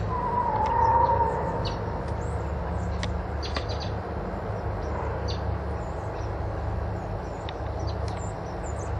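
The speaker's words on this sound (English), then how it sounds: "Robins going into the honeysuckle vines around the trees." Robins flitting into honeysuckle vines around trees in Fayetteville, Arkansas, in December, giving scattered faint chirps and calls at a distance over a steady low rumble of wind or background noise.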